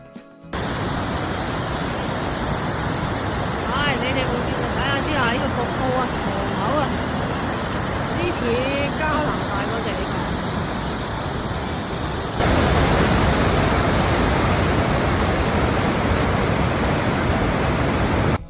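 Hukou Waterfall on the Yellow River roars as a steady, loud, broad rush of falling water, with faint voices of a crowd beneath it and a slight jump in volume partway through.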